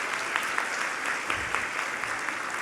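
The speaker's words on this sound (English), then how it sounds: "Can we give them a round of applause?" Audience applause at a 2021 legacy luncheon honoring local officials, a steady wash of many hands clapping throughout, fairly loud and dense with no talk.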